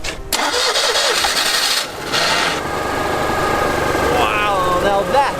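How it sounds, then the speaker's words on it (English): A Citroen 2CV engine is cranked and fires into life in cold, snowy weather with the choke pulled, after a brief hesitant crank. It settles into a loud, close, steady idle as a voice talks over it. "pull the choke out, and even at these really cold temperatures, it fired right into life"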